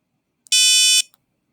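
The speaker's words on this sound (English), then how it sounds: "it's going to make the LED blink and make that long buzz sound" A programmed electronic buzzer sounds one long, steady, shrill tone lasting about half a second, loud and close, with a brief click on either side and silence around it.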